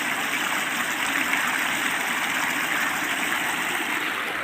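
Water pours steadily into a clay pot hung from a tree as a drinking bowl for birds. It makes a continuous rushing, gushing stream sound, close and fairly loud, with no talk over it.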